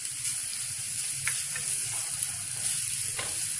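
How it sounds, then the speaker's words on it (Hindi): Garlic sizzling in oil in a pan, a steady dense frying hiss throughout with a few light stirring clinks, moderately close and with no voices. "हल्का सा लहसुन को फ्राई करना है"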